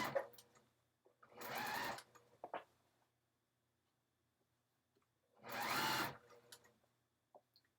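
A sewing machine stitches ruffles in two loud, steady runs of whirring, with short pauses and small clicks between them.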